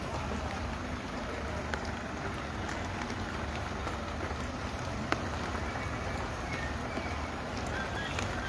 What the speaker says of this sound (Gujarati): સતત હજુ પણ અવિરત વરસાદ જે છે તે હજી ચાલુ છે.